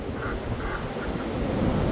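Steady gusting wind buffets the microphone on a morning outdoors among Silver Appleyard ducks, a continuous low rumble with faint quacking and calls in the background.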